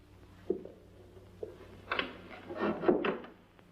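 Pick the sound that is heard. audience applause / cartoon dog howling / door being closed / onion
door being closed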